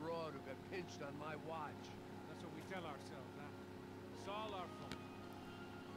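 A steady low motorboat engine drone from the video game Max Payne 3 runs throughout, with people talking loudly over it.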